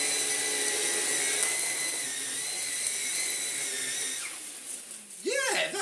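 A Vax Blade 2 Pro 24v cordless stick vacuum runs with a steady high-pitched motor whine close by, and the pitch wavers near the end as it pulls at something. A person talks briefly over it.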